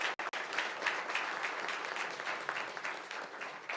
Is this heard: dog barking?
no